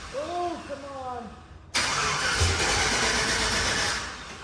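An abandoned 1957 Chevy two-door hardtop with an LS engine swap and a clogged gas tank cranks and strains to start, a loud mechanical churn that surges in after a voice speaks over quieter background.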